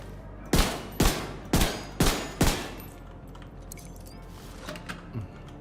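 Five sharp pistol shots fire in an even rhythm during gameplay of The Division 2, loud and close, each followed by a short decaying tail, then quieter game sounds.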